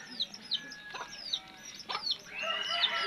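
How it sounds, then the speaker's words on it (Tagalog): Red junglefowl (labuyo) chickens cluck and call close by: several short, sharp squawks and chirps in quick succession over low background noise, ending in a louder, sustained cackle. "Napakalakas kasi mga tiyaw nitong labuyo na to eh."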